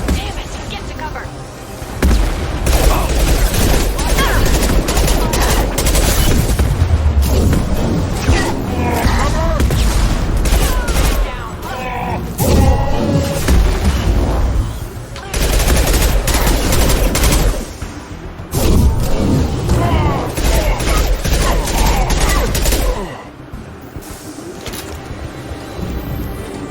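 A Mass Effect 2 firefight fills the scene with continuous rattling bursts of gunfire and heavy blasts. Dense, loud volleys overlap without a break, with a few brief lulls between the barrages.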